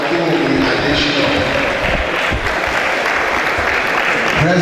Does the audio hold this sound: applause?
yes